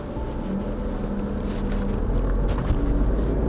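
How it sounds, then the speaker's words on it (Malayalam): Tata Nexon with a 1.2-litre turbo petrol engine and AMT gearbox pulling away, a steady low engine and road rumble throughout, close and fairly loud, no voices. "Tata Nexon petrol engine, 1200 cc petrol engine AMT ട്രാൻസ്മിഷനോട് കൂടിയിട്ടുള്ള നമ്മളൊന്ന് ഓടിച്ച് നോക്കാം"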